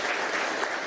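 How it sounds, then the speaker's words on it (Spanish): Applause from an audience at a Venezuelan central bank event honouring its president, a dense, steady wash of clapping that is moderately loud and heard alone for under a second. "un aplauso al presidente del Banco Central de Venezuela"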